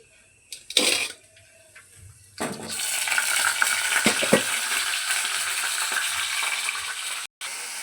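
A first clatter of pan and utensil, then spices hit hot oil in a kadai for tempering and break into loud, steady sizzling that continues to the end.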